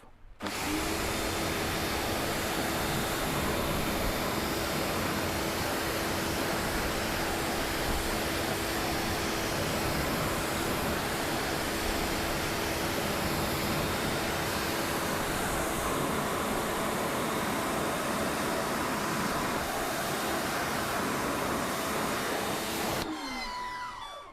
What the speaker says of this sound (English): a couple of sprays and then a simple rinse off